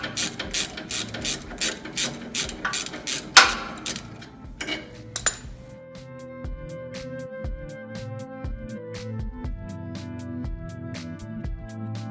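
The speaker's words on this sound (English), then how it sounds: "Use a ratchet to undo the nut." A ratchet spins a nut off a blade bolt on a 7HP or 15HP chipper shredder, giving a fast, close metallic clicking that pauses with a loud clank, then slower bursts of clicks with faint metallic ringing.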